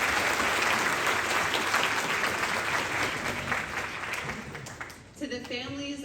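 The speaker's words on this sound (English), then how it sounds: "please give a round of applause to your teachers this year" A graduation audience applauding teachers at a 2023 school ceremony, a dense roar of clapping from a large crowd that tapers off, after which a voice begins speaking.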